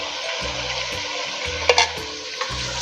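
Spices fry in hot oil for aloo keema, a steady close sizzle broken by a few sharp scraping stirs of a spoon against the pan.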